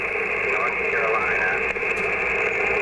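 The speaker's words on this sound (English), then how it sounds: "This is the noise blanker on." Steady band-limited static from an Icom M-802 marine radio with the noise blanker on hisses continuously, with faint garbled voice-like warbles drifting through the noise.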